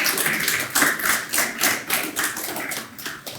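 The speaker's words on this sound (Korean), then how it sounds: "이분한테만 박수 좀 특별히 한번 좀 부탁드리겠습니다" Audience applause at a Korean community event, with a steady round of clapping from a modest crowd, heard fairly close and without talk.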